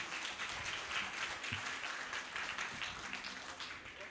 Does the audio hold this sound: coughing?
no